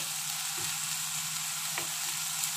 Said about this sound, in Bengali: দেখো অনেকটা ভাজা ভাজা হয়ে গেছে,